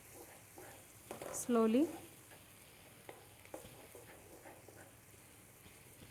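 A masala paste sizzles softly in a pan and is stirred slowly, with faint scraping, while a voice speaks briefly over it.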